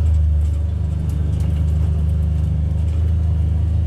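A car drives across a hot South Texas ranch, its engine a loud, steady low rumble with constant road drone and no talking.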